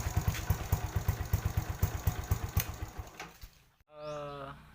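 A motorcycle fitted with an Apido power pipe exhaust idles with the silencer removed, a loud close chugging of rapid regular pulses for about three seconds, fading out before a short tonal whine at the end.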